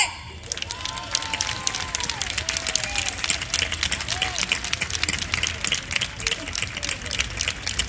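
Loud, sustained audience applause and cheering from a crowd at an orchestra and choir concert, greeting a bass player; dense clapping fills the clip steadily with no clear speech on top.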